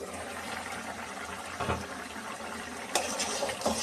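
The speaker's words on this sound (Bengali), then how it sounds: "বলক ওঠা পর্যন্ত অপেক্ষা করব।" A pot of water with radish cooking in it heats toward a boil, giving a faint, continuous bubbling and sloshing with a few soft gurgles.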